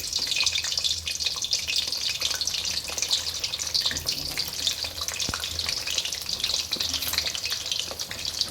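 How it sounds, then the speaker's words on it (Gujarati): Steady, crackling sizzle of onions frying in hot oil, close and continuous with fine popping throughout, no voices. "ડુંગળી તળીએ ત્યાં સુધી"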